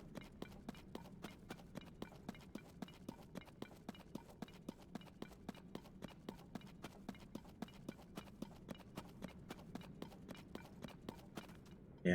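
Horse hooves clip-clop at a steady, even trot in the Zelda: Tears of the Kingdom video game, with regular moderate beats continuing for about twelve seconds.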